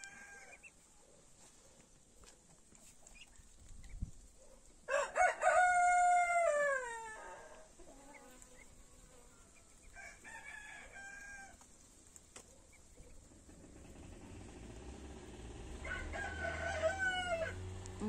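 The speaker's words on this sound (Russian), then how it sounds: "Ну вот, затрещало сельское хозяйство на все лады." Roosters crow loudly in a village farmyard, several long cock-a-doodle-doo calls in separate bursts, with poultry clucking and farm noise in the background.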